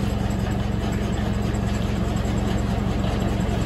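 A belt-driven Bamford grinder and roller mill runs continuously with a rapid, even mechanical thrum and a low drone, steady throughout.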